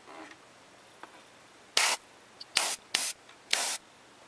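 Short airbrush bursts spraying paint onto a small Gashapon Ride Watch figure part, four distinct hissing blasts of about a quarter second each, close and fairly loud against a quiet room, with a faint puff before them.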